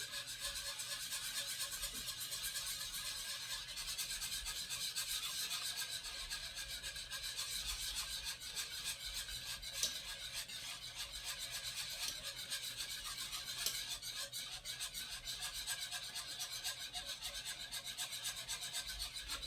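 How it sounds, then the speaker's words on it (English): A whisk works steadily through a mixture in a pot while it is slowly added, a continuous fairly quiet rasping scrape with no talk over it, for Easter cooking. "And just keep on whisking."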